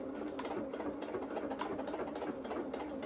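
A sewing machine runs continuously, stitching fabric with shirring elastic for a dress, a steady close rapid mechanical whir with fast rhythmic needle clatter throughout.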